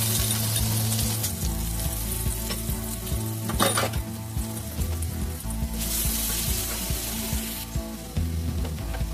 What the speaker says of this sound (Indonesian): Lalu gongso terlebih dahulu untuk bumbu yang dihaluskan.